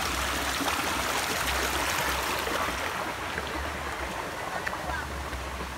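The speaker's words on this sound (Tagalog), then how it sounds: "Ayan, tatawid na naman ako sa sapa." Steady rush of a flowing countryside stream being crossed on foot, close and continuous across the whole stretch, with no voices.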